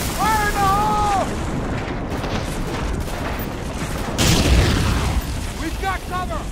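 A grenade-style blast tears through a fence in Medal of Honor Frontline on the original Xbox. It lands as one loud burst partway through, over steady battlefield rumble, and voices call out before and after it.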